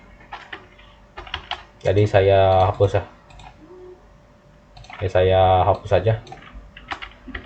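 Computer keyboard typing with a steady run of clicks, fairly close, broken by two bursts of other louder sound partway through.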